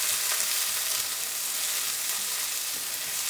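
Bell pepper frying for borscht, a dense, even hiss of oil crackling continuously up close with no pauses.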